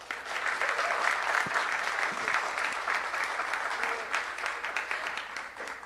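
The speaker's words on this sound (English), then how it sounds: "So how about we put our hands together and show her some love." Steady applause from a studio audience at a televised Bollywood interview show, a dense, even wash of clapping that holds at full strength without letting up, with no clear cheering or voices standing out above it.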